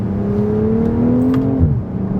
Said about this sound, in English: when you put this car in sport mode, it completely transforms